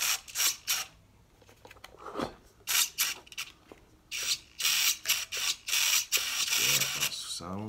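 Steering servo on a Tamiya Terra Scorcher RC car being tested, giving repeated short, whirring mechanical buzzes in close bursts, some quick and clipped, others longer and sustained, with pauses between sweeps.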